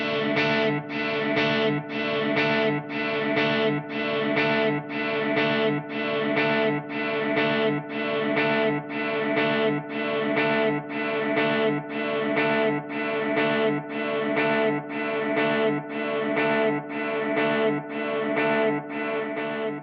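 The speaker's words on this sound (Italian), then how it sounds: "Sentite la differenza con il delay messo dopo il riverbero invece." A distorted electric guitar played through an Axe FX III with delay placed after reverb repeats a chord pattern in a steady rhythm, each strum trailing into echoes, loud and continuous with no talking.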